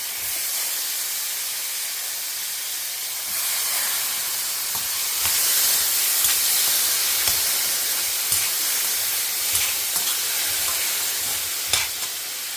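Mustard seeds, chana dal, urad dal, curry leaves, asafoetida, chilli and turmeric powder sizzle in hot oil for a kadi pakoda tempering, a steady close hiss with crackling pops and stirring clicks, no voices.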